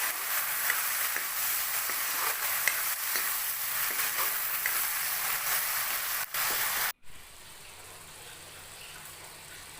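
Tomato paste added to a frying pan sets off a continuous loud sizzle with scattered stirring clicks, which drops sharply to a quieter hiss near the end; no voices.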